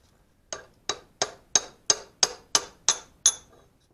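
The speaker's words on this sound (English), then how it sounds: "hammer sideways under your chisel there a" Nine sharp, evenly spaced metallic hammer blows on a chisel driving off a front wheel bearing on a PT Cruiser, each strike ringing briefly in an otherwise quiet space.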